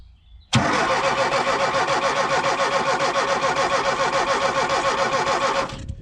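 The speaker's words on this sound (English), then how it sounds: "So if I touch this onto the plus 12 volt here on the battery, the engine should crank." A Ford Transit Mk2 camper van engine cranks steadily on its starter motor, switched through a relay. A sudden onset leads into a loud, rhythmic churning that runs unbroken for about five seconds before it stops.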